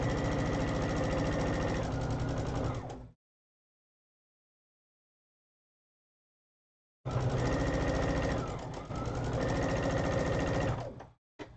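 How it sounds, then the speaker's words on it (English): A sewing machine stitches quilt fabric in two steady, rapid bursts of mechanical whirring, close and clear, split by a few seconds of silence and ending with a short final tap. "you just line it up and press it, sew it through."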